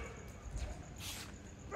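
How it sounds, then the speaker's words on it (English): Stray street dogs in Pattaya, Thailand give a few brief, faint yips and barks against steady outdoor city background noise. "So many dogs, oh my God. Look at all these dogs"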